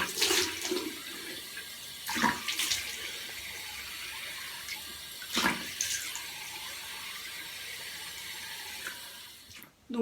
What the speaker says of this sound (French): Ensuite je vais simplement prendre de l'eau et le mettre sur mon visage.